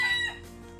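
A chicken clucks and crows briefly, close and fairly quiet, then fades into soft background noise.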